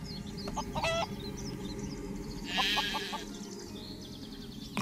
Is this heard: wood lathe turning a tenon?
no